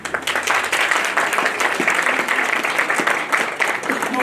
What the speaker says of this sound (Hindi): माननीय महोदय के लिए एक बार फिर से जोरदार तालियां।